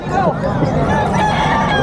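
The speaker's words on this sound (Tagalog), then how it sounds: "Ayan, mga pangkatay na manok, kay Kuya Noga." A rooster crows loudly and close by at a Friday pet market in Bocaue, one drawn-out call over a noisy background of crowd murmur and other fowl.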